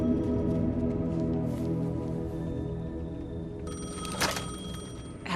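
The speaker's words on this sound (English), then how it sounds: "phone was ringing." Old-style telephone bell ringing steadily in the video game Alan Wake 2, the ring sounding under a dense musical score and moderately loud, with a sharper burst near the end.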